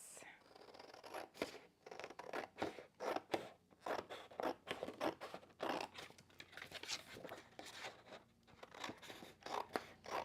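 Scissors cut around scrapbooking paper with a series of close, crisp snips and crunchy paper rustles in uneven bursts, and faint speech is present at times.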